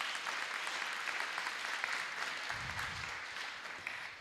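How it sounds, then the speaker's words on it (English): Graduates at a graduation ceremony clap for themselves, producing continuous, energetic applause from a large group that stays even throughout, with a brief low thump partway through. "Clap for yourself."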